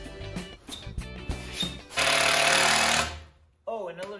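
A power drill drives screws into 2x4 boards for garage shelving, with short clattering bursts followed by one long, loud whirring run. A voice is briefly heard at the end.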